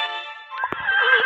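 A horse in a video game gives a clear, loud whinny, a shaky high neigh lasting about a second, with a few soft hoof clops mixed in near the end.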